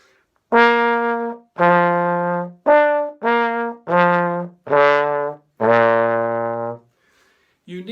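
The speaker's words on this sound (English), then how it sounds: "a brief demonstration of the trombone" A trombone plays a short run of sustained, separate notes, each held briefly before the next, loud and close with nothing else audible.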